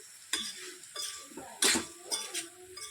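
Cooked soybeans being stirred in a metal pan for a dry Maharashtrian soybean bhaji, giving a few scraping, clinking strokes of a spoon against the cookware at an irregular pace, fairly close and moderately loud.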